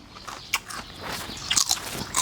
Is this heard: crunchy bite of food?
yes